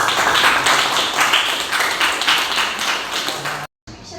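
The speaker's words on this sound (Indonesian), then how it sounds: "tepuk tangan untuk kita semuanya" Classroom applause from a group of schoolchildren: dense, loud clapping that stays steady for several seconds, then cuts off briefly and resumes.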